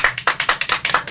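Hands clap in a close, even rhythm, about five crisp claps per second, loud and alone with no voices.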